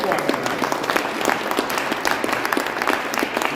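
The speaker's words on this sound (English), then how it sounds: "you can applaud for that." An audience at a political speech in Montana applauds, a dense ongoing patter of many hands at a steady level, with some crowd voices mixed in.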